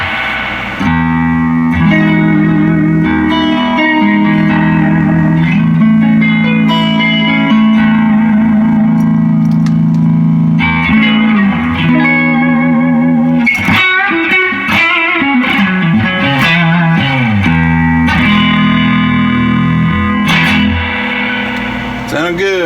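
A 1974 Fender Twin guitar amplifier with its reverb working carries sustained, ringing notes and chords that trail off in lingering echoes, with a brief burst of rapid, wobbling tones midway, loud and up close.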